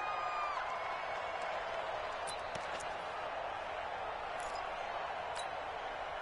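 A steady wash of stadium crowd noise fills a football video game as home fans roar to disrupt the snap count near the goal line, a dense unbroken roar with a few sharp cheers rising above it.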